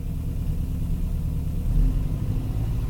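A small engine turning an alternator rises in speed under added throttle, a steady low rumbling drone that swells slightly louder toward the end, with no talking.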